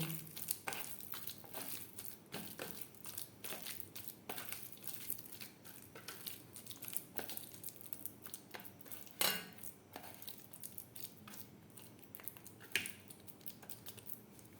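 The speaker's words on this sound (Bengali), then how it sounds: "আলু বেশ ভালো করে মেখে নেব" Boiled potatoes are mashed by hand with chopped green chili and tamarind pulp for fuchka filling, producing soft, close squelching and crushing sounds in an irregular rhythm with occasional light taps, faint and with no talking.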